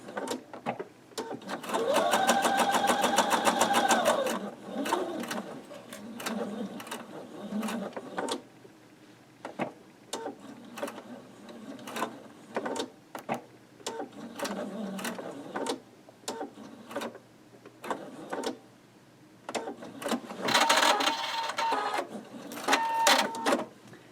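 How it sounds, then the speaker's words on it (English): A sewing machine back stitches a quilted spool block, starting with a steady whirring run and then giving short intermittent bursts and clicks, with a brief second run near the end. "And then you're going to stitch from X to X. Do a little back stitch."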